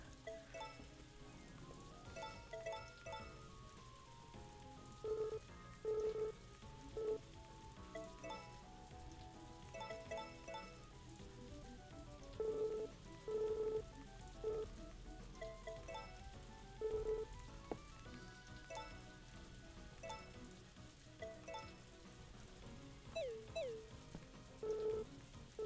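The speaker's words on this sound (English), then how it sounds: "The relaxing rain sound." Rain falls in the farming game Story of Seasons: A Wonderful Life, a steady soft hiss running throughout beneath gentle melodic game music and chime-like tones.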